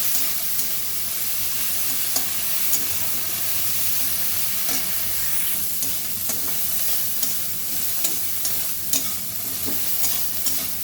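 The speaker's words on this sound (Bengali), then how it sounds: "ওরই ওপরে একটু নুন আর হলুদ দিয়ে দিলাম, সুন্দর করে ভেজে নেব" Fresh shrimp frying in oil in a pan with salt and turmeric, a continuous sizzle punctuated by regular scraping stirs of a utensil, close and steady with no talk.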